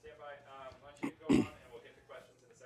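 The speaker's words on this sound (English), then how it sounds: "I'm going to cough." A man clears his throat and gives a short cough, two brief rough bursts after some quiet speech, close and fairly soft.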